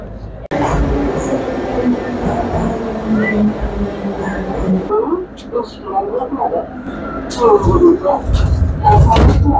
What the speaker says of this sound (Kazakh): Метроға міндік. Метроға міндік деймін.